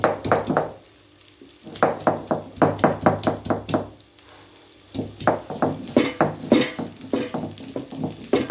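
Fresh native garlic is crushed with a run of sharp, evenly spaced knocks, close and fairly loud, in three bursts separated by short quiet pauses.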